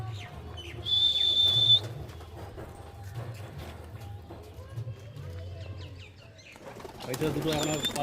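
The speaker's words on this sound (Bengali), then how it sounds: "বন্ধুরা দেখতে পাচ্ছ উড়ে গেছে সব পায়রাগুলো" Tournament racing pigeons burst into flight at a loft, with a rush of flapping wings near the start and again at the end, a sharp whistle early on, and people talking throughout.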